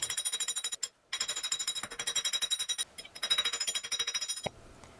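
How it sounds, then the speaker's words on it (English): A polished cross-peen domed hammer strikes a silver ring on a steel mandrel in steady rapid rhythmic blows, ringing metallic taps in quick bursts with brief pauses between runs, close and clear. "Keep using the same technique, turning the mandrel, hammering opposite planes."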